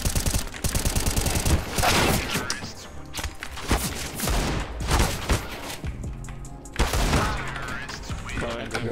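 Rapid gunfire bursts in the video game CS:GO crackle in quick volleys across the stretch, fairly loud, with other impacts and game effects mixed in and no clear pauses.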